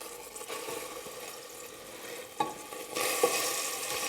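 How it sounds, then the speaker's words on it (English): An Indonesian spice paste fries and sizzles in hot coconut fat, with a soft continuous crackle, occasional stirring scrapes and a brighter burst of sizzling near the end. "It's very typical in Indonesian cooking to make a spice paste and then frying it to really open up all the flavors of the ingredients"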